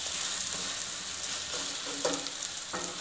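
Slices of bread fry in oil on a flat tawa over medium flame, giving a steady soft sizzle with faint crackles and a couple of brief scrapes as pieces are turned, with no talking.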